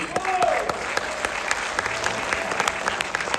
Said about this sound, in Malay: satu tepukan untuk Ali